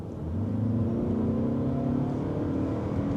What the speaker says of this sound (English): We're coming up on an uphill right here, so let us slow down and we'll accelerate and see how that feels.